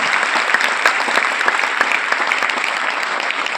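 An indoor audience at a career seminar breaks into brisk, sustained clapping, a dense crowd applause that stays steady and fairly loud throughout.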